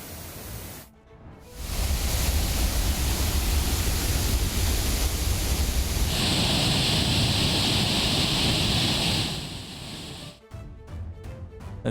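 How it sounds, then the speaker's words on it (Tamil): Courtallam waterfalls in Tenkasi, flooded after heavy rain, roar as a dense continuous rush that swells after a brief dip and holds loud before easing near the end, with short cuts between shots. "தென்காசி பகுதியில் கொட்டி தீர்த்த கனமழையால் குற்றால அருவிகளில் வெள்ளப்பெருக்கு ஏற்பட்டுள்ளது."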